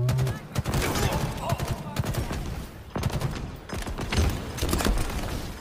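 Rapid gunfire bursts and booming shots from the Halo video game fire repeatedly in quick succession, loud and dense, with a player talking over the firefight.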